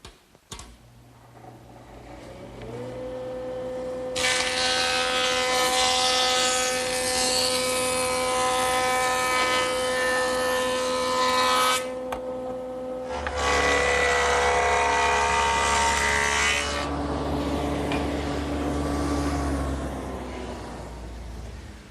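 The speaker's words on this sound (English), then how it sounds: "Now I'll just joint both edges nice and smooth." A jointer machine smooths the edges of boards for a coffee table, its motor winding up, then two loud passes of roaring cutterhead noise separated by a short dip, followed by the motor spinning down.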